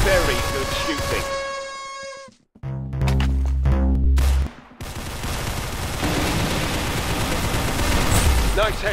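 Rapid gunfire in the Roblox shooter game Arsenal, a burst of loud overlapping shots with booming low thumps, set among game music and effects while a voice talks over it.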